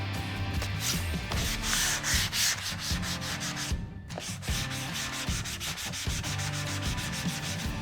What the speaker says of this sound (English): I'm gonna go ahead and use this flat sander here just to get a little bit of the detail work done on the tops of the letters